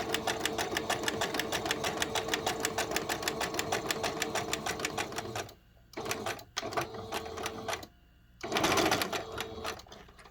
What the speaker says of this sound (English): I'm going to stitch it close to the edge.